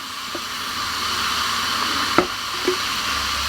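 Liquid fizzes in a chemistry demonstration with a soft, steady hiss, broken by a few brief clicks and pops.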